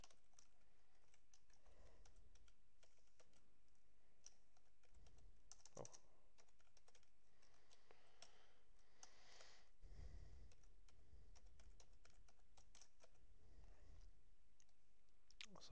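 Someone types steadily on a computer keyboard, with rapid clicky keystrokes in bursts and brief pauses, faint and close, while entering values for a chemistry exercise about a negatively charged chloride ion.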